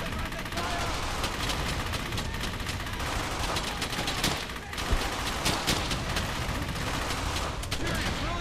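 Dense, continuous machine gun fire in the World War II shooter game Brothers In Arms: Hell's Highway, loud and sustained, with rapid bursts and explosive cracks layered over a battle din.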